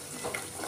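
Cream being stirred nonstop in a pot over heat as it separates into ghee, a short, steady, soft sizzling and scraping wash.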